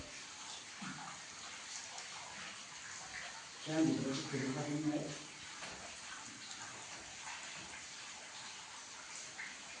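Water gushing and splashing inside the Gupteshwor Mahadev cave, a steady faint trickle with a brief louder rush in the middle, while someone talks over it.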